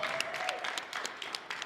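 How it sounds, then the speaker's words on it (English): An audience clapping at a Kwanzaa gathering, a short burst of dense, continuous applause from a small crowd at close range, with a faint voice underneath. "Yes, clap for yourselves,"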